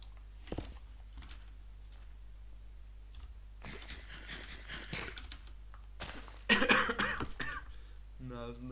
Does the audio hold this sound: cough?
yes